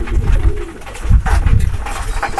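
Pigeons coo repeatedly in a loft as a flock of young birds comes down to land, low throaty calls pulsing in close, overlapping bursts with some wing and movement noise and no talking.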